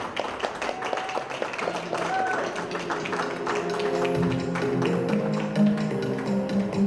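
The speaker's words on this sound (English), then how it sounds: "Round of applause, please." An audience at a corporate customer day event applauding award winners, a steady wash of clapping from a crowd with a voice speaking over it.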